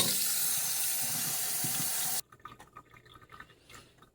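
Fresh cilantro is rinsed under a running kitchen tap, giving a steady hiss of flowing water that stops abruptly midway, followed by faint drips and handling sounds.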